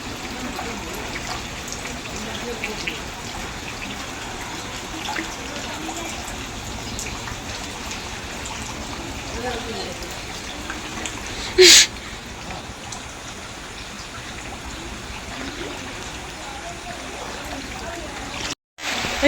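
Heavy midnight rain in Nagaland pours in a dense, steady hiss and patter, continuous and close, with one brief sharp knock partway through and a short dropout near the end.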